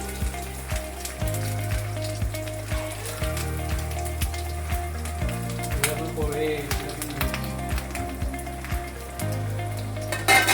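Grated fresh coconut fries in ghee in a pan over a low flame, giving a steady soft sizzle under background music.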